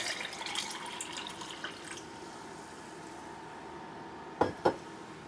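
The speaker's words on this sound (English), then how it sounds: "And just pour it into your cup." Herbal tea poured from a glass jar into a cup, a faint, steady liquid trickle that drops away, followed by two short, sharp clinks near the end.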